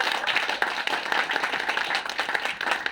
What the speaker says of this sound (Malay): Berikan tepukan kepada PTPTI.